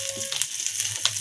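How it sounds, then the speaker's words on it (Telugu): Powdered asafoetida dropped into hot oil, a short burst of close, steady sizzling with faint crackle. "కొద్దిగా ఇంగువ వేసిన. ఇంగువ పొడి."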